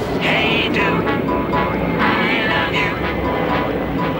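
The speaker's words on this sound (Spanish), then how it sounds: "Se oye otro avión ya." An airplane roars low overhead near a landing strip, a loud, steady engine drone filling the whole clip with wavering tonal whines riding on top.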